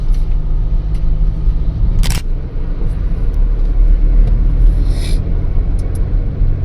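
A vehicle races along a desert road near the Rajasthan border at Jaisalmer, making a loud, steady engine and tyre rumble mixed with wind, with one sharp click partway through. No one speaks.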